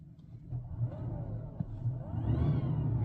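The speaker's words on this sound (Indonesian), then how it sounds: "itu motor listriknya yang digeber gitu ya, bukan mesin lagi mati nih sekarang" A Mazda CX-80 PHEV SUV revs its electric motor in EV mode with the engine off, producing a rising whine over a low road rumble that swells louder toward the end, with no talking.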